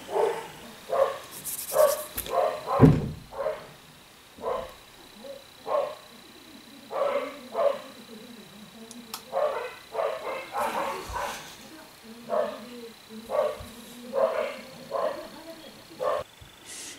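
Dogs bark at home during a family lockdown, repeated loud barks and yips in uneven bursts across the whole stretch, mixed with people talking nearby.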